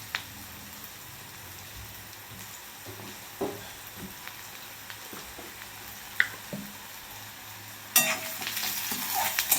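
Onion frying in a pan for a ripe tomato chutney, a soft continuous sizzle with scattered stirring knocks, growing louder and brighter near the end.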